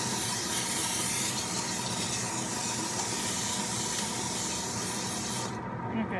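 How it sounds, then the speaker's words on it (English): A steady, close hiss of cooking oil spray from an aerosol can runs for several seconds before cutting off near the end. "so I'm just going to spray this real quick."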